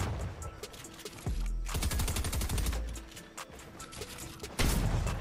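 Rapid bursts of gunfire from a competitive shooter game during a controller-versus-keyboard tournament match, loud and close, with sharp repeated shots and heavy impacts stacking up over several seconds.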